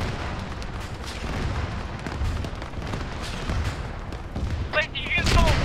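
Heavy gunfire and booming artillery rumble continuously in an Arma 3 firefight, dense and loud throughout, with sharper whistling bursts near the end.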